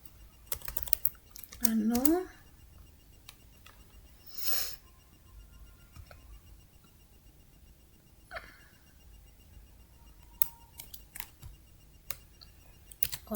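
Scattered keystrokes clatter on a computer keyboard during a network configuration lab session, quiet irregular clicks with a brief mid-range vocal sound and occasional pauses.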